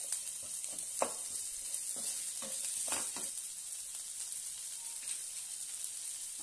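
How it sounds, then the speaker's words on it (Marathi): Finely chopped onion frying in oil in a pan gives a steady, soft hiss with a few faint stirring clicks and scrapes, quiet and continuous throughout. "एक कांदा बारीक असा उभा चिरून घेतलेला आहे। छानपैकी परतून घेऊया।"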